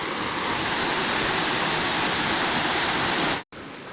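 Steady broadband rush of Blackden Brook flowing and tumbling over rocks on Edale Moor, close and loud throughout, cutting out briefly near the end before resuming.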